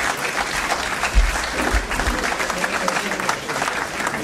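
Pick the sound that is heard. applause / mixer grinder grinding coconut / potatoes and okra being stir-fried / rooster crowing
applause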